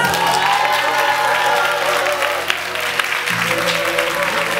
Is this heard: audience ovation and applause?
yes